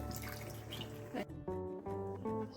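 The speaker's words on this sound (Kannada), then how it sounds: "ಒಂದು ಅರ್ಧ ಗ್ಲಾಸು ನೀರು ಹಾಕ್ಕೊಳ್ಳೋಣ ಒಂದು ಹಾಫ್ ಗ್ಲಾಸಷ್ಟು" About half a glass of water is poured into a pot of egg dum biryani, a brief rushing splash at first, followed by soft tonal music in the background.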